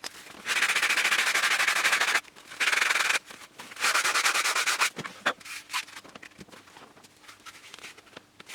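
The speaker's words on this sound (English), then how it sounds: "And now I just rub it with a little sandpaper" Sandpaper rubbed by hand over a balsa wood model aircraft wing, with loud, close scratchy bursts of sanding separated by short pauses, then lighter intermittent scraping and taps toward the end.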